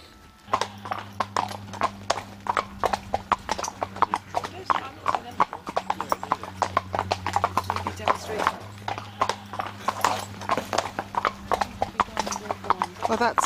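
Hooves of small horses clip-clop in a rapid, dense, uneven patter on a ride in Wales, close and steady throughout with a faint low hum beneath.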